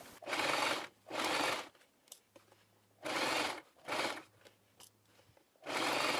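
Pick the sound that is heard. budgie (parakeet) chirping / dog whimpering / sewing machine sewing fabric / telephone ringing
sewing machine sewing fabric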